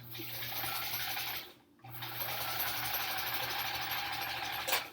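A sewing machine zigzag stitching appliqué onto a quilt block runs in a fast, steady mechanical whir up close, pausing briefly once before resuming, with a small click near the end and no talking.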